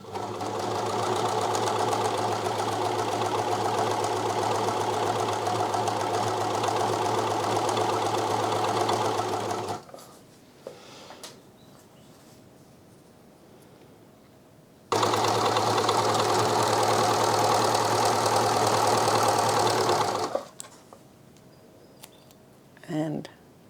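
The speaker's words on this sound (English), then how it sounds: "and there is the stitching. So that's the threading of the Jaguar 298DW." A Jaguar 298DW serger/overlocker runs at full speed, a loud steady whirring hum for about ten seconds, then stops, then runs again for another stretch before falling quiet with faint handling sounds.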